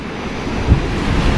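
Strong cold wind buffets the microphone on a snowy, squally day, a dense continuous roar with low rumbling gusts and no voices.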